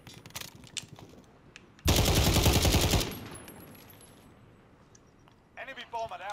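An Uzi submachine gun fires in a Modern Warfare match: a single loud, sustained automatic burst lasting about a second, with game effects and speech faintly around it and voices returning near the end.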